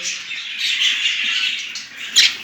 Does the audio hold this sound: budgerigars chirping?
yes